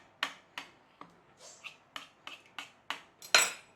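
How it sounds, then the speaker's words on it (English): Knife trimming excess pastry off a Scottish macaroni pie: a series of about nine sharp, close clicks and taps of metal on a dish, spaced roughly evenly, the last one loudest, with no talk. "Then with your knife, let's just have that off there."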